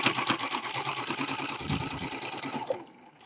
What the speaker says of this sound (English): I'm at the machine and I'm going to be stitching with 1/2 inch seam allowance all the way around